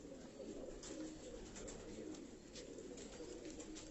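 Pigeons cooing in a breeder's loft in Karachi, with soft, low, continuous coos and faint chirps at a moderate distance over a steady background hiss, no voices.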